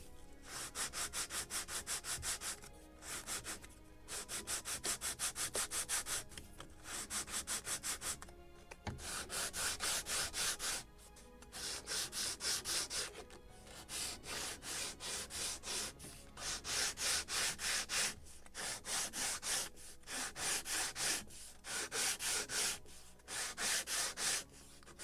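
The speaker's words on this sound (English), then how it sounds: "try it on the model, and then sand it more if it is necessary" Wood plank for a model of the 1776 gunboat Philadelphia, a Model Shipways kit, being sanded by hand in a long series of steady back-and-forth strokes with short pauses between bursts, close and fairly loud, with no talking.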